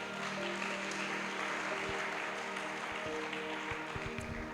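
A church congregation claps for the Lord at a Pentecostal-style service, a steady wash of broadband applause filling the room over a low sustained tone, with a few louder thumps near the end.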